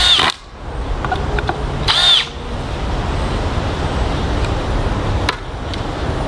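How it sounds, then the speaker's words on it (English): A power drill drives screws into soft cedar boards for a backyard swingset, loud and close, with short whirring bursts at the start and around two seconds followed by a steady motor drone. "I'm gonna take some screws and screw these other pieces onto it as well."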